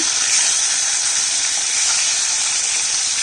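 Flipped fish pieces keep frying in a pan of hot mustard oil, a steady, close hiss of sizzling oil with no voices over it.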